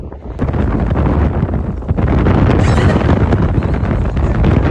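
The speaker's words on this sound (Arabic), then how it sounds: "في هوا قوي" Strong, steady wind in Jazan, Saudi Arabia, buffets the microphone with a loud, continuous low roar and gusty rumble throughout.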